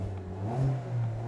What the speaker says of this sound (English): It actually sounds pretty good for a 2-litre naturally aspirated engine.